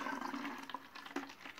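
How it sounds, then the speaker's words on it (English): Water pours steadily into a bottle being filled to the top, a continuous splashing, gurgling stream heard up close with a slight rise in pitch near the end. "So first, I'm going to pour water into the bottle."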